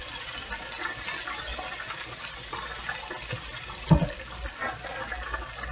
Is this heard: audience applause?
no